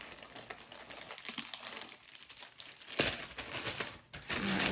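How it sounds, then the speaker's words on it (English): Tiles and charms shuffled by hand for a reading, a continuous dry clatter and rattle of small pieces rubbing and knocking together, close up, growing busier toward the end. "All right, so a good shuffle going on here."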